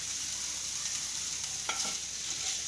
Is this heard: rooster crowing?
no